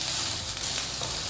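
Cooked green beans stirred in a hot pan, a steady sizzle and frying hiss with faint scraping as they are turned, close and moderately loud with no voices.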